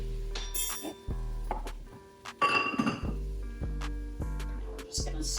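A utensil stirs flour into vegetables in a pot for clam chowder, making repeated metallic clinks and scrapes against the pot, with a louder clattering scrape partway through, over a low background hum.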